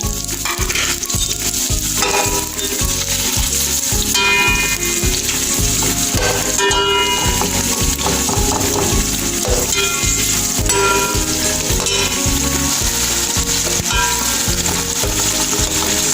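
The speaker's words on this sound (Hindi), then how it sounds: "तो गर्म तेल में प्याज डालें।" Onions sizzle loudly in hot oil for Punjabi pulao, a dense steady crackle with repeated stirring and scraping strokes throughout and no talking.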